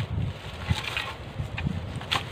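Wind gusting outdoors at a windy cooking spot, a rough buffeting rush against the microphone with brief louder gusts and no voices.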